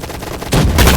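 Gunfire in a shooting video game with a sniper rifle: after a quieter half-second, loud dense bursts of shots crack in back to back, harsh and close.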